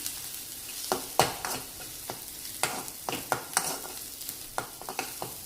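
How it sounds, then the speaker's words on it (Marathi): Grated dried coconut roasts with tomato in oil in a pan, soft sizzling under repeated scraping stirs, a dozen or so irregular scrapes close by and with no talk. "आपण हा खोबऱ्याचा कीस घालूया, वाळलेल्या खोबऱ्याचा, आणि ह्या तेलामध्ये छानसा भाजून घेऊया"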